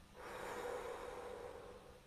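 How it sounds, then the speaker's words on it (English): Slow breathing during a relaxation exercise: one soft, drawn-out breath, faint and close, with no talking over it. "Close your eyes, breathing slowly in and out."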